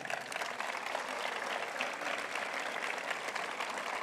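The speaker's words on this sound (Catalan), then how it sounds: "Magnífic, un aplaudiment per a tots." Steady applause from an audience greeting festival representatives at a town festivities presentation, even and sustained clapping at moderate distance with no voices on top.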